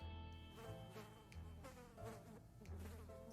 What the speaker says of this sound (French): Elle a la mouche là.